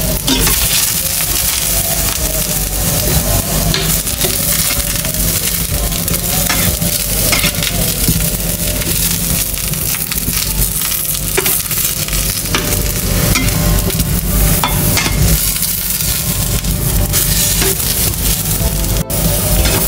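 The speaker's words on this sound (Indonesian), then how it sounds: "Dan goreng terongnya sampai kecoklatan." Eggplant fries in hot oil in a pan, a loud, steady sizzle under constant stirring and scraping that runs for about twenty seconds with no talk.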